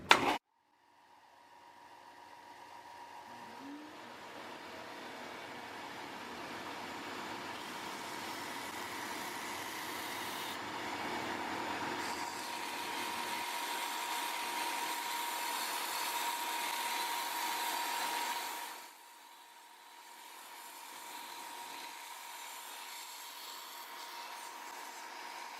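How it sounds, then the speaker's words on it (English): A Rikon 50-112 belt sander runs with a vacuum attached, its steady whirring hum lasting about eighteen seconds while wood is sanded, then dropping off and settling into a quieter continuous drone. "I'm going to turn the vacuum on now and sand a piece vertically"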